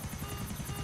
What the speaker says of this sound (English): Why did he get a helicopter?